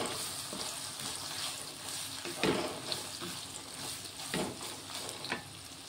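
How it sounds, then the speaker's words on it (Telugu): Soaked meal maker soya chunks fry in hot oil with a steady sizzle, while a spoon stirs them and scrapes the pan in a few brief bursts, heard up close with no talking. "అవన్నీ ఇలా ఆయిల్లో వేసుకుంటున్నాను. వేసుకొని ఇలా ఒకసారి కలిపేసుకుందాము."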